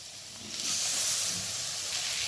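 Medium-sized chopped tomatoes hit hot oil in a pan with cooked onions, setting off a steady, close sizzling hiss that swells quickly and holds for a couple of seconds.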